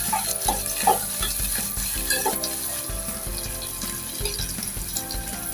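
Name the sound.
onion and curry leaves frying in oil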